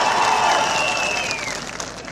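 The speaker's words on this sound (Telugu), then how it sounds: "గట్టిగా చప్పట్లు కొట్టి చెప్పండి సాధ్యమని." A crowd applauding at a TDP political rally in Kuppam, a dense wash of clapping that stays loud for about two seconds and then tapers slightly, with a faint voice carrying above it.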